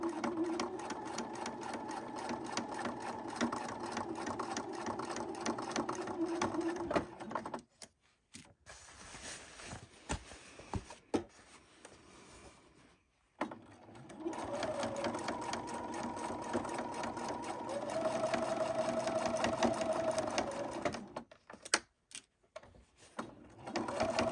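A sewing machine stitches a thick pant hem, its needle chattering in a loud continuous whir that stops twice for short pauses before running on again.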